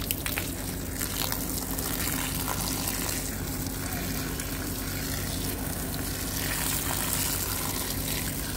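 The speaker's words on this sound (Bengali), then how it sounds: "তো আমি লাউ গাছেও পানিটা দিয়ে দিচ্ছি।" Water pours steadily onto a bottle gourd plant growing on a rooftop, making a continuous rushing splash that stays even and fairly loud from start to finish.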